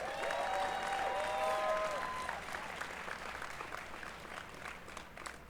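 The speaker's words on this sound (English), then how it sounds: "Bring a round of applause." Sustained crowd applause at a PFC 18 fight event after a three-round bout, loud and dense, with a few whistles riding on top early on before it gradually thins.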